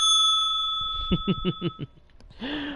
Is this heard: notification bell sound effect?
yes